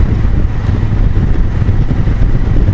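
A Honda CRF1000L Africa Twin motorcycle engine gives a loud, close, steady low rumble that holds without pause and has a dense, throbbing texture.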